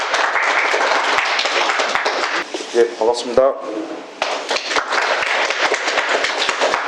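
A lecture audience at a humanities travel event gives a short burst of applause to welcome the host institute's director; someone speaks a brief greeting midway as the clapping dips and resumes.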